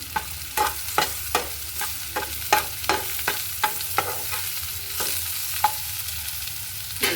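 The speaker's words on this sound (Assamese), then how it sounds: "লৰাই দিম" A spatula stirs mowa fish and onion frying in a pan, giving a steady run of sharp scraping strokes about every half second over a continuous low sizzle.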